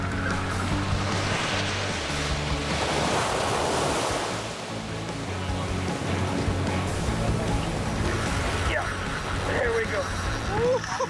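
Ocean waves break against a rocky point in the Marquesas Islands, a loud, sustained roar of surf with rushing wash and wind buffeting the microphone, while a narrator speaks over it.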